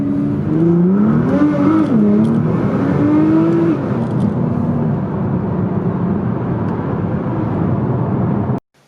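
A tuned Nissan GT-R revs hard and accelerates through a tunnel, its pitch climbing through gear changes with a roaring, echoing drone before cutting off abruptly.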